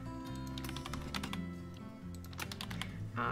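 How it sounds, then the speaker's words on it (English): Typing on a computer keyboard, with quick irregular bursts of clicking keys close by, fairly faint, and short pauses between runs, no talking. "please let me type"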